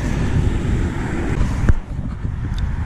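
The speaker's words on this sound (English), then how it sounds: "Really windy" Steady wind in the Everglades buffets the microphone with a low, rumbling roar throughout, fairly loud and unbroken, with a brief gust swell near the end.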